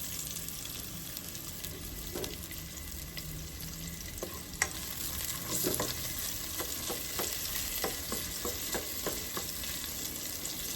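Chicken browning in a pan for a home-cooked chicken curry sizzles and fries steadily, with occasional scraping and stirring clicks from a utensil, close and constant throughout.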